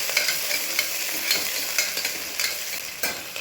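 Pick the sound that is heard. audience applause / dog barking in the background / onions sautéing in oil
onions sautéing in oil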